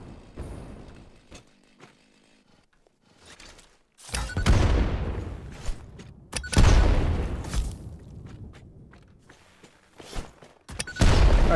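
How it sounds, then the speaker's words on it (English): Bombs detonate in the video game Satisfactory, clearing a mushroom-covered area with several heavy booms and crackling blasts that ring out and decay between quieter stretches. "Just once the mushrooms are clear, then I can just detonate the bombs."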